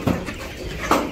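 Farm chickens rushing about at morning feeding time, giving a couple of short clucks and squawks over a low rustling background, close by with no talking.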